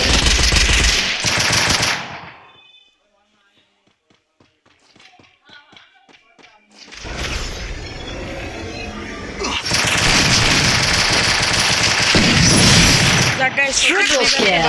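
Rapid bursts of gunfire in a CS ranked match on a mobile shooter game, loud and close, with a quiet stretch of faint game sounds between bursts, and a voice talking over parts of it.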